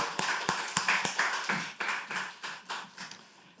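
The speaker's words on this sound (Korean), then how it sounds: "여러분 큰 박수로 축복해 주세요" A church congregation at a Korean Sunday worship service claps in a steady, evenly spaced rhythm, about a dozen crisp claps at moderate volume with no talking.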